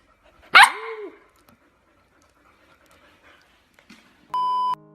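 A dog gives a single sharp, close bark followed by a brief whine. Then comes a long quiet stretch, and near the end a steady electronic beep tone sounds.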